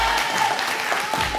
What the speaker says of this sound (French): Faites un tonnerre d'applaudissements pour Mathilde sans H et Logan avec un E